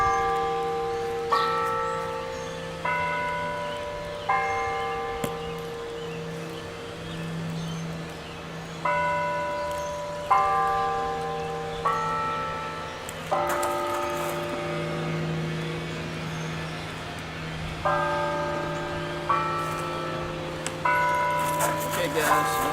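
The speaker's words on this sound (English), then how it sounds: "Have to excuse the church bells." Church bells ring out in repeated peals of layered tones, each strike decaying, over steady low background hum while someone speaks nearby at times.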